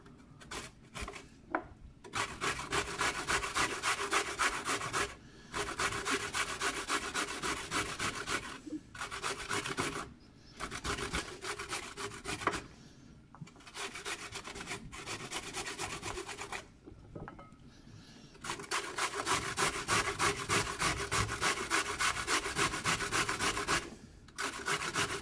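Vegetables are rubbed against a grater for a vegetable strudel filling, giving loud, close, rhythmic rasping strokes in long bursts separated by brief pauses.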